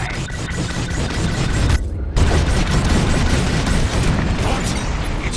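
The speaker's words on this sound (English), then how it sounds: "On my mark, it's bombs away." Bombs dropping and exploding in the Star Wars: Squadrons video game, a dense, loud barrage of booms and bursts rolling continuously, with one brief near-silent gap partway through before the blasts resume.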